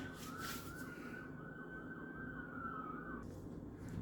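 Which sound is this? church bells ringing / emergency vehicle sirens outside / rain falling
emergency vehicle sirens outside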